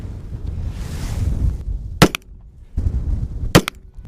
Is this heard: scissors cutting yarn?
no